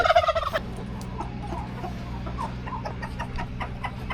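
Chickens roosting in a coop give a burst of loud clucking and gobbling calls near the start, then settle into a low, steady murmur of quieter clucks over a constant background hum.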